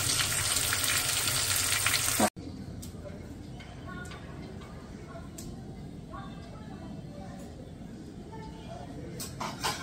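Fish frying in a pan makes a loud, dense sizzle that cuts off abruptly, leaving a quieter crackle with faint clinks and ticks in a home kitchen.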